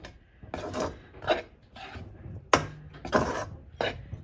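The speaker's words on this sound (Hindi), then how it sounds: "ये देखिए मसाले कितने अच्छे से भुन रहे हैं" Dry fruits and spices, including dried ginger, being stirred and roasted in a kadhai, producing repeated dry scraping and rasping strokes about every half second, close and moderately loud, with no talking.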